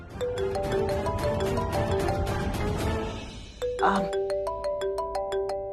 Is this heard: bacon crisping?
no